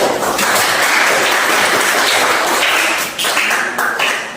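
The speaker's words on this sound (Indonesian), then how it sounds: "Beri aplaus untuk kelompok kita semuanya ya." A group applauds after a classroom presentation, the clapping dense and continuous, loud and close, fading slightly near the end with no talk.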